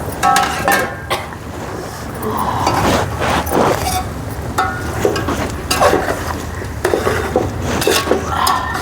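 Chicken curry being stirred in a cooking pot, loud clattering and scraping of a utensil against the metal pot with occasional clinks, continuous and close.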